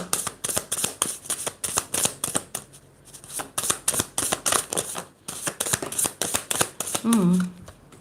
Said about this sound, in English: I'm going to pick some cards with letters on it.